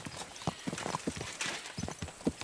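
Horse walking with hooves clip-clopping in the video game Kingdom Come Deliverance II, steady even hoofbeats close by, with faint ambient noise beneath.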